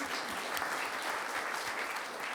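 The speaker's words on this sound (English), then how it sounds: "That's a round of applause." Audience applause following a talk at a space resources conference, a dense, steady patter of clapping filling the hall at close range with no voices over it.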